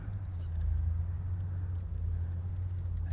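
Vanquish 4WS Optic RC crawler on Toyo RT Pro tires inching across a gap, a steady low motor rumble and whine running continuously with slight swells, close and alone.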